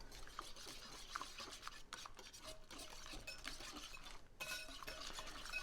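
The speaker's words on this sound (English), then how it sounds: "Get all that mixed together good." Wet fish cake ingredients being mixed in a bowl, giving a steady scraping, stirring rasp with small clinks of utensil against the dish, continuous and fairly close, with no talking.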